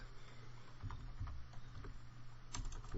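Typing on a computer keyboard, a soft, steady patter of key presses at close range over a faint background hum.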